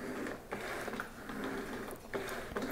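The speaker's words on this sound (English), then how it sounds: "the dirty mop is going to the clean chamber and then I'm wringing it out" A flat mop is wrung out in the dry chamber of a floor mop bucket set, giving faint ratcheting, clicking mechanical sounds with a few sharper clacks, alone and without talk.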